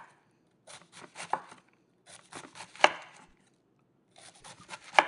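A knife chops ingredients on a board for okonomiyaki, cut into thin strips. Bursts of quick, crisp taps are separated by short pauses, each burst ending in a sharper, louder strike, with no voices.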